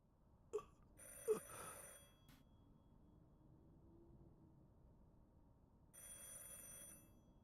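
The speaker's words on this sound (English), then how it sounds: "A phone rings elsewhere." A telephone rings inside the video game The Incident at Galley House. Two faint bursts of trilling bell arrive several seconds apart, with a short clatter near the start and quiet room tone between them.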